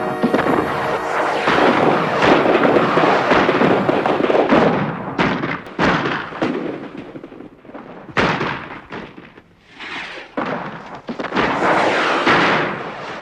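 A dense, sustained barrage of fireworks fills a fantasy film scene, with loud crackling and popping bursts and repeated sharp bangs and thuds. It keeps going for many seconds, thinning briefly toward the end before flaring up again.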